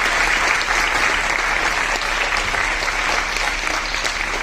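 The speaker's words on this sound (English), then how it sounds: "she deserves a very big round of applause from all" A large audience applauds after a performance, a dense, steady wash of clapping that fills the whole stretch at close range with no voices over it.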